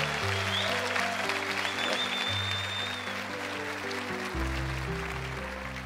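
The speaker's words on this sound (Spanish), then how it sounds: "Un aplauso para Romeo y Julieta." An audience applauds a Romeo and Juliet scene on a TV comedy show, a steady wash of clapping running under bright music throughout.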